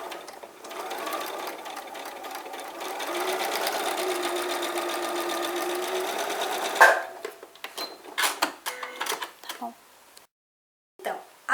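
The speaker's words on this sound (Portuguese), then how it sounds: "Agora, nós vamos passar uma costura aqui e uma costura aqui, pezinho de máquina" Sewing machine stitching together two paper bias strips, a fast, steady mechanical whirr for about seven seconds, then stopping into scattered clicks and handling noises, with someone speaking Portuguese around it.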